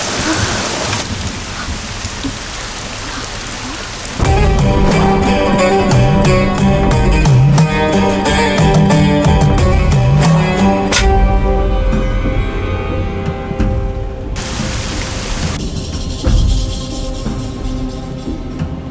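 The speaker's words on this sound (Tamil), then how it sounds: "ஐயோ மழை ரொம்ப அதிகமாக இருக்குடி" Heavy rain pours down in a dense, loud, continuous hiss, with low thunder rumbling underneath. A tonal musical score swells over the downpour through the middle stretch.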